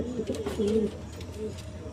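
A breeding pair of pigeons coos nearby in soft, low, rolling phrases, with a brief louder coo in the middle over quiet background noise.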